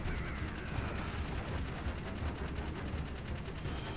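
Rapid automatic gunfire in the video game Jak 3, a continuous burst of fast repeating shots at moderate level with no pauses.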